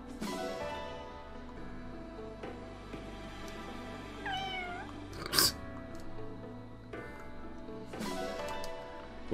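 A cat meows in the video game Fire Emblem: Engage, one clear wavering meow midway that sits above steady game music, with a sharper sound effect just after.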